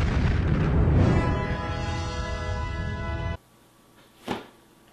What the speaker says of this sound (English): Alright guys, enough with the nuclear explosions